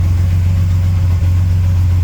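A 1938 SS Jaguar 3½ litre engine idles steadily up close, a low, even rumble with a smooth, regular throb.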